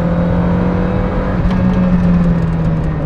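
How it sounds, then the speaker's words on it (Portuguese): Lancia Delta Integrale Evo 2 accelerating at full throttle on an open road, a steady loud engine drone with rising pitch and a whirring note, heard from inside, no voices. "Eu posso carregar a fundo"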